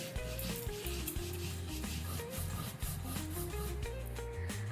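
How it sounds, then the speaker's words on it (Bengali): Chilli is ground into a paste for a spicy mutton curry with a continuous, close, rhythmic rubbing and grinding scrape, fairly quiet and steady throughout, with no talk. "বেটে নেব লঙ্কাটা"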